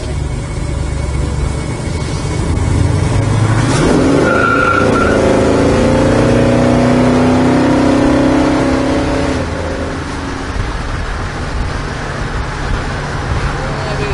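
A 1972 Chevrolet Nova Yenko style car accelerates hard, a loud close engine roar rising in pitch with a squealing tire note, then settling into a steadier drone that fades slightly.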